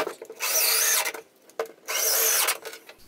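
A power tool fastens wooden support blocks to the edge of plywood in a camper build. It gives two close, loud whirring bursts of under a second each, with a short gap between them.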